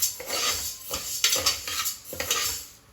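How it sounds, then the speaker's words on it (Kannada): Moong dal being stirred and dry-fried in a metal pressure cooker: repeated close scraping and clinking strokes of a spoon against the pot, coming in an uneven rhythm over a faint sizzle. "ಈಗ ಹೆಸರುಬೇಳೆ ಹಾಕ್ತಾಯಿದ್ದೀನಿ, ಫ್ರೈ ಮಾಡ್ಕೊಳ್ಳೋಣ."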